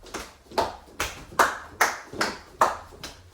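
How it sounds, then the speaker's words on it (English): An audience claps together to the beat at a dance camp, about seven sharp, evenly spaced claps in a steady rhythm, fairly close and with no talk. "while running, we will be clapping to the beat"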